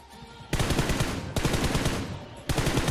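Shooter video game automatic gunfire in three loud, rapid bursts, each a fast rattling string of shots separated by brief pauses.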